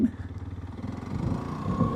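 A TVS Apache RTX300 motorcycle engine thrums at a steady low pitch in second gear, its even pulsing beat rising slightly in loudness as it rides along.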